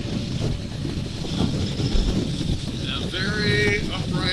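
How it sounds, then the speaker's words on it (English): Wind gusts buffet the microphone with a low, constant rumble while riding a 2022 KTM 1290 Super Adventure R motorcycle; a voice is briefly audible near the end. "A little windy"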